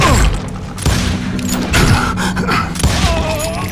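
Dense gunfire and booming impacts pile up in a Call of Juarez Gunslinger fight, with overlapping shots, thuds and mechanical clanks filling the short, loud stretch.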